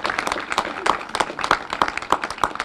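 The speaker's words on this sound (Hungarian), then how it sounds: "távollétükben azért szerintem egy tapsot ők is megérdemelnek" At a heritage quiz award ceremony, a modest audience claps for an absent team, fairly sparse and uneven hand claps with distinct individual strikes and some background voices.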